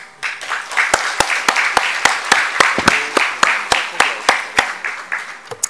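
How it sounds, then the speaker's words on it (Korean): An audience of parents at a university admissions briefing claps in a steady, even rhythm. Sharp, evenly spaced claps ring out over a fuller wash of applause, fairly close and loud. "우리 다 함께 힘찬 박수 한번 칩시다"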